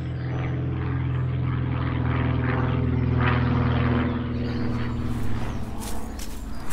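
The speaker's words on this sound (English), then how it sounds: "oh, there's a biplane." Piston-engined biplane droning overhead in a quiet Surrey village, a steady low rumbling hum that swells slightly and lingers for several seconds with no talk.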